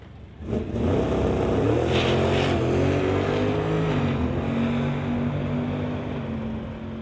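A 1966 Chevelle with a 505 big-block engine launches down a drag strip in a Real Street class pass, roaring loudly and climbing in pitch through the gears before fading slightly as it pulls away.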